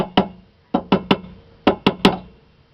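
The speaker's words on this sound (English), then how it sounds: "give it a little tap" Rubber mallet tapping a rear wheel hub assembly on a 2000–2005 Dodge Neon, six sharp close knocks in uneven pairs and singles, each ringing briefly, with no talk.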